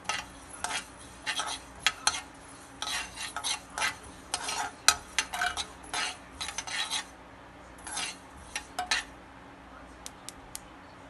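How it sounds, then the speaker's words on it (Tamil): Sesame seeds crackle and pop while dry roasting in a pan, giving a quiet, irregular run of sharp ticks and small bursts, with occasional stirring scrapes and no talking. "எள் பொரிக்கிற சவுண்ட் வரும், அந்த டைமில் எடுத்துடலாம்."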